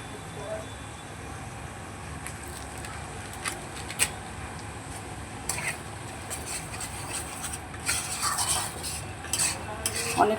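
A spatula scrapes and stirs spices with salt and turmeric in a pan, giving irregular scraping strokes over a soft sizzle, with louder clattering scrapes near the end.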